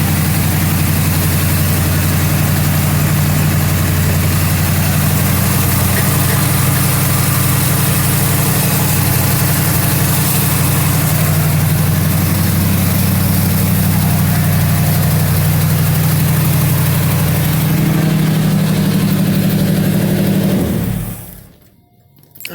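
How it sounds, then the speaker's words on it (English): A 400 cubic-inch V8 engine in a 1977 Mercury Marquis idles with a deep, steady rumble up close, running evenly for a long stretch before cutting off at the end. "Motor sounds pretty nice. Sounds healthy and everything."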